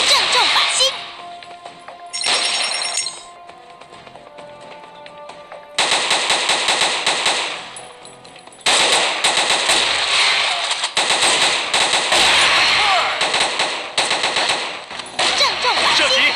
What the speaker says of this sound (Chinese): 射击，继续射击。 继续射击， 百发百中， 正中靶心。